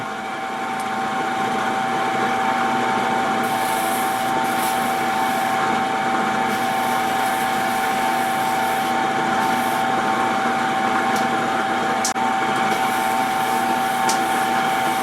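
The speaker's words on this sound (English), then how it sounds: "cut this one a little deep, so I have to sand it out." Wooden bottle stopper being sanded on a running lathe, a steady whining motor hum with a constant tone and faint scratchy sanding noise throughout, close and continuous.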